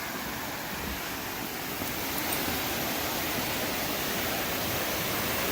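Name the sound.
waterfall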